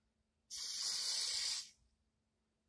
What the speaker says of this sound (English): just one spray